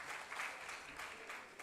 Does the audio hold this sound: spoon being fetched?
no